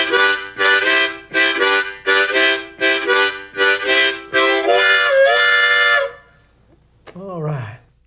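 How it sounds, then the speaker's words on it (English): A harmonica chugs through the basic train rhythm in rapid, even chord pulses, then holds a long whistle chord before stopping; a brief spoken voice follows near the end, close and clear. "All harmonica players know how to play the train."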